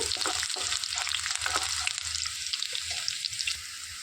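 Garlic frying in oil for a bitter gourd fry, a loud, close, continuous crackling sizzle with busy hissing texture and faint spatter, no talking.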